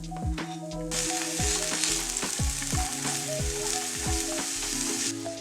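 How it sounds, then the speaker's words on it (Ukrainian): Olive oil bursts into a loud, steady sizzle as onion hits the hot pan, with clanks of a utensil stirring at intervals. "на розігріту сковорідку додаю оливкову олію і відразу ж піджарюю цибулю"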